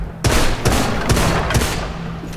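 Several bursts of gunfire ring out in the video game Deadfall Adventures, loud and close, with a few sharp shots cutting through a steady roar of fire.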